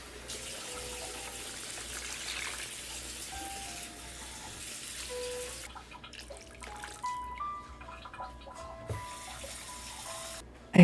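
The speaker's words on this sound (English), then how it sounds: "It's time to add some water to fill the spot after this is sauteed." Tap water runs into a soup pot of sautéed vegetables, trickling steadily and then splashing with a few clinks.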